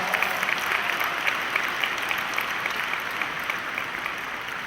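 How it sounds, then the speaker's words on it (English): A dinner audience at the CBCF awards applauds Congressional Black Caucus chair Barbara Lee with steady, even clapping from a large crowd, holding at a constant level throughout. "Please give her a big round of applause."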